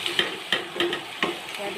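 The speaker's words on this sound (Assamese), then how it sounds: "এইখিনি এতিয়া মই অকণমান ভালদৰে লৰাই থাকিম।" Soybean chunks being stirred with spices in a hot pan, a spoon scraping and knocking in irregular strokes roughly every third of a second over a light sizzle of frying.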